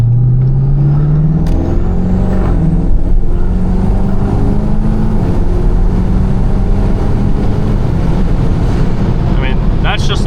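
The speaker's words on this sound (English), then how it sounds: "that's just like normal throttle, like a quarter of the way down" A twin-turbo 5.7-litre Dodge Charger engine at quarter throttle gives a steady, loud drone inside the car, with a low hum that rises slightly in pitch early on and continuous road and wind noise throughout.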